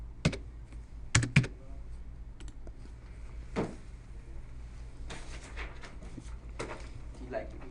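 Keys on a computer keyboard are struck in short irregular bursts to log in, quick close clicks separated by pauses over a quiet room hum.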